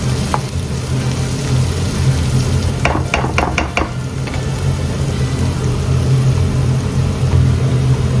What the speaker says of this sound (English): we want to make sure that these garlic, onions, and ginger are nice and toasted before we can add the pork